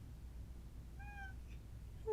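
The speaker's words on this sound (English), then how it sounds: "Who's meowing?" A cat gives a single short, clear meow midway through, fairly faint against a low background hum, with no talking around it.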